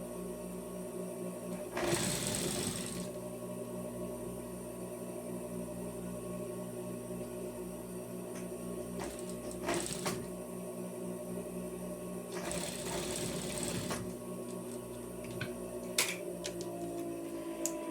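Sewing machine topstitching a jacket: a steady mechanical whir with a rhythmic ticking beat, interrupted by a few louder bursts of rustling fabric as the piece is handled.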